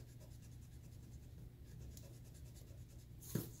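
Pencil drawing a curve on paper for an isometric sketch, a soft continuous scratching close by, quiet and steady, ending in a short sharp tap.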